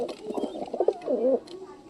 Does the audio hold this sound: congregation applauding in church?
no